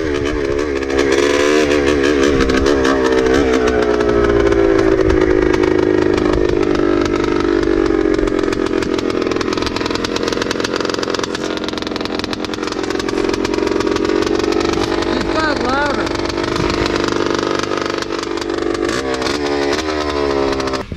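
A 1976 Yamaha YZ400C motorcycle engine runs steadily and loudly throughout, a harsh continuous drone with shifting pitch as it is revved, close by with no talking.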